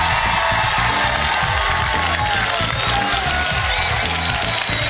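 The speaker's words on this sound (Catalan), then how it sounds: "Si us plau, fort aplaudiment per ells!" Studio audience on a Catalan TV quiz show, El gran dictat, applauding and cheering steadily and loudly, a dense wash of clapping with whoops throughout.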